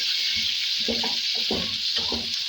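Onions sautéing on a tawa stripped of its nonstick coating, in a home kitchen in Cameroon: a steady close hiss of frying with a few soft low scrapes and knocks from stirring.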